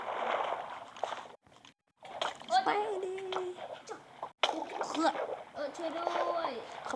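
Water splash in the Minecraft PE video game as a character falls into water, a few watery splashes and sloshes heard clearly while a young voice talks over them.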